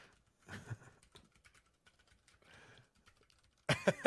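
Faint, sparse clicking of keys on a computer keyboard in short bursts, quiet and close, ending with a louder clatter.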